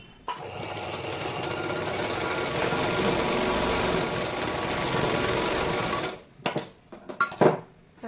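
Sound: sewing machine stitching blouse fitting seams

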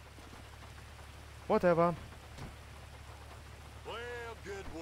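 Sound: rain in video game GTA V

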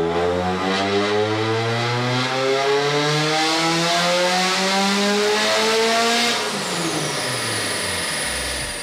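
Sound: car engine dyno pull with Rotrex supercharger

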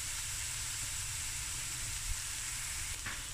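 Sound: onions frying in oil in a pot

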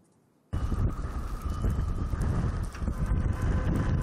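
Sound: strong wind gusts

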